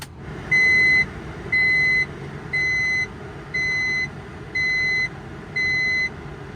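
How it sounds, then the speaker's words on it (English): A 1995 Honda Acty's warning chime beeps six times at an even pace on startup, each high-pitched tone lasting about half a second, over a low engine idle. "We have to deal with that annoying beep all the time."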